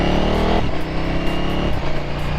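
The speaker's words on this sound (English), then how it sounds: "I'm getting more backfire with the baffle out as well" A KTM SuperDuke 1290R motorcycle with its exhaust baffle removed, close and loud, its engine note dropping sharply before settling into a rough, popping idle-like rumble with crackling backfire bursts.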